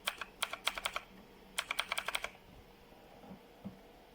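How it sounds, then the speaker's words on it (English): Typing on a noisy wireless typewriter-style keyboard: two quick bursts of loud, clacky keystrokes, close up, followed by a quieter stretch with a few faint taps. "there's another keyboard I have that is precisely to make more noise, and just listen to the difference."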